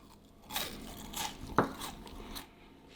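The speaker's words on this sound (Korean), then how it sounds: "바삭바삭 씹히는 소리가 귓가에도 같이 들리는데요" Quiet, close crunching as grilled dried pollock is chewed, a few crackly bites in sequence with one sharper snap midway.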